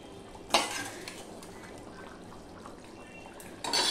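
Potatoes go into a pot of simmering mutton curry with a sharp clatter and scrape near the start, then quiet stirring and bubbling, and another burst of scraping at the end; no voices.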